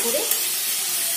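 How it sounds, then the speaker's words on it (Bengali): Potato and mushroom pieces fry in a pan with a little water and oil, making a continuous, even hiss of sizzling at moderate loudness, with a faint trace of voice near the start. "এবার আমি আলু ভাজা ও মাশরুম ভাজা দিয়ে দিয়ে দেব, দিয়ে ভালো করে"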